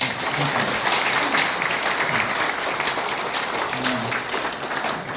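A seated audience of retired municipal officials in Incheon gives sustained, even applause of encouragement for the mayor at a special lecture, filling the room continuously from start to finish.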